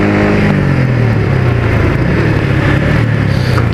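Yamaha XSR 155 cafe racer motorcycle fitted with an R25 exhaust, its engine running loud and close with a steady droning note that dips slightly in pitch, a continuous rumble without talk.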